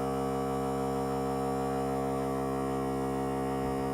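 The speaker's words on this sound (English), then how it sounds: "So that's a little wall air compressor." Small wall-mounted air compressor running as a steady, droning electric hum with strong tonal buzz, constant and unchanging throughout.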